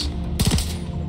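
Gunfire in the Call of Duty: Modern Warfare 3 (2023) campaign: a quick burst of three or four close, punchy shots over steady game ambience, with no talking.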